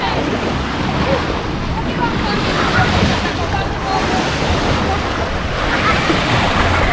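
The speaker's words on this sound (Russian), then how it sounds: "это бассейн с волнами" Wave pool at the Union Lido campsite gives a loud, steady rush of churning water, buffeted by wind on the microphone throughout.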